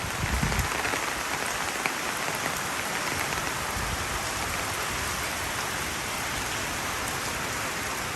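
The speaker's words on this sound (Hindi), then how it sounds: "बहुत तेज़ बारिश है।" Heavy rain pours steadily onto a backyard with standing water, a dense, constant hiss of drops striking surfaces, close and even throughout with no voices.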